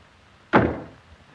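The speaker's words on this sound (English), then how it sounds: "I said close this door, Wally." A door shut in a 1942 comedy film gives one sharp, close thud with a brief decaying rumble, alone in a quiet room.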